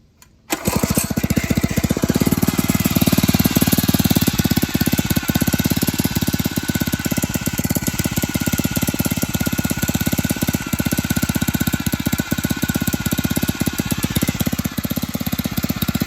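A Phatmoto gas bike's small engine starts and then runs steadily with a loud, rapid, buzzing putter close by while the choke is switched, with no speech over it.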